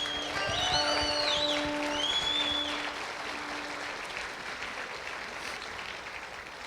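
A church congregation applauds together, a broad wash of clapping that holds steady and slowly fades, with sustained music tones ringing in the background during the first few seconds.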